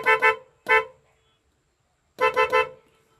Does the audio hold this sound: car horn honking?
yes